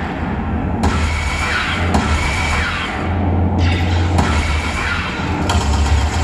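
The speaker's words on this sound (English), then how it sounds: "a special ability called Barrage, able to fire very rapidly with the blaster at multiple enemies" Rapid blaster fire from a Barrage special ability in a sci-fi video game, shown at PAX 2009, comes as repeated sharp shots in bursts over a steady engine-like rumble, loud and close.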